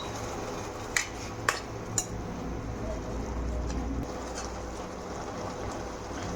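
A lid goes onto a cooking pot of fried onion stalks with added water, giving three quick metallic clinks early on, followed by a low simmering hum in a home kitchen.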